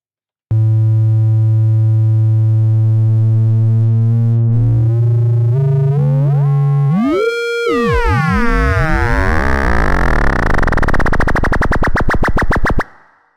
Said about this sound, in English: The FM knob in VCO1 section defines the amount of frequency modulation of oscillator 1 from oscillator